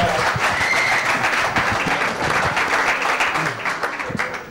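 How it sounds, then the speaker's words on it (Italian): An Italian television audience bursts into sustained, dense applause for a young Italian-Cuban woman called up from the crowd, a loud steady wash of clapping with no speech over it. "facciamogli un applauso, forza"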